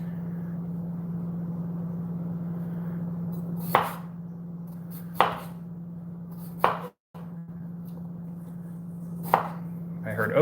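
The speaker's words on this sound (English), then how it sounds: "he hears chopping sounds" A few sharp knife chops on a cutting board, spaced a second or two apart, over a steady low appliance hum, close and fairly quiet.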